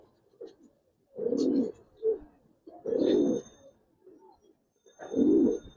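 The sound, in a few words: Giribaz pigeons cooing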